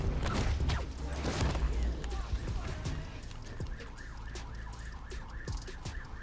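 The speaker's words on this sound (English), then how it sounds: "a police car just rolled by around past my house" A police car siren wails rising and falling in the distance, passing by outside, with traffic and other street noise underneath.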